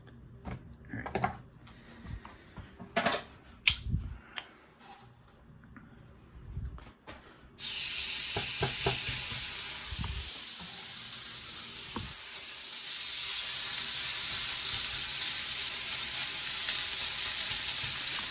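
Pork chops frying in a pan at medium heat: scattered knocks and handling first, then a sudden, sustained loud sizzle that grows a little stronger partway through, with no speech.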